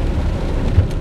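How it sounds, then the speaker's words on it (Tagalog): Heavy rain roars as a dense, steady wash, with a faint low rumble that may be distant thunder, no voices. "Grabe yung lakas ng ulan."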